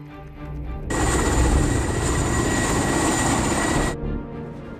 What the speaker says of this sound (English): Osprey is in the air, sir.